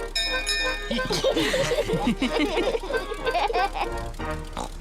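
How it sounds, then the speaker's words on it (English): A ship's bell rung on a boat in a Peppa Pig cartoon, chiming briefly amid lively cartoon voices, laughter and background music. "Peppa, ring the bell"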